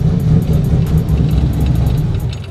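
A sequential-transmission burnout truck's engine given gas as the clutch is let out, a loud close rumbling drone that holds steady with slight surges and eases off at the end, no talk over it.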